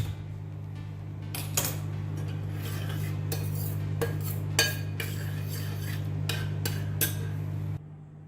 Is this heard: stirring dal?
yes